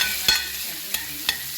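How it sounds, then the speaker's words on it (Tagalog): Dried prawns fry in a pan with a soft continuous sizzle, broken by three sharp stirring scrapes spaced across a short moment. "I'm going to add this dried prawn kasi kailangan natin i-fry po muna natin siya"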